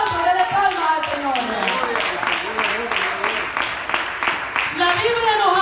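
A church congregation claps for the Lord in steady, rhythmic hand claps, loud and sustained across the whole stretch, while a preacher's voice rises and falls over the clapping.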